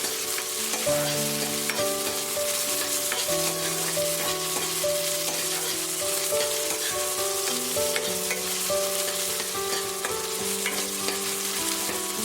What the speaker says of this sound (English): saute till the garlic, onions and ginger become soft